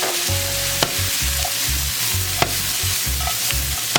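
Three garlic cloves are stirred into a sizzling meat sauce for million dollar spaghetti, giving a loud steady sizzle with a rhythmic low thudding of stirring and a few sharp clicks, close and without speech.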